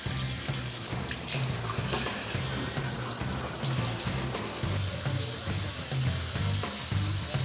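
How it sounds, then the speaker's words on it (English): Strong water spray from a shower head pummeling a wall during a home inspection water test, a loud continuous hiss and splatter filling the space with no talk over it. "Wow, that shower head really pumps it out."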